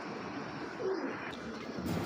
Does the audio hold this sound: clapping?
no